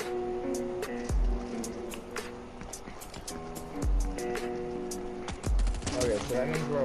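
Rapid SMG gunfire in Fortnite, delivered in fast crackling bursts of sharp clicky shots over game music, with deep thuds at intervals and a player talking over it.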